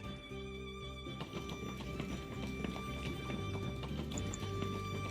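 Horses' hooves clip-clop steadily in a video game as the riders pass through a canyon, a moderately quiet rhythmic trotting set under a dense bed of music and ambience.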